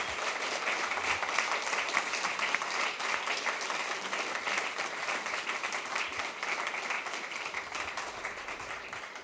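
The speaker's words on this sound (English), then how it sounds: "ask you for clapping your hands to these fantastic speakers" Audience applause for the speakers at the close of a talk on automated entrance detection, a dense, steady wash of many hands clapping at moderate distance that carries on evenly for the whole stretch.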